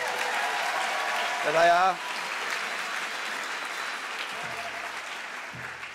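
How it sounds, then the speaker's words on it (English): Audience at a senior campus graduation ceremony clapping in a steady continuous wash of applause, with a voice speaking briefly over it. "They deserve a big round of applause."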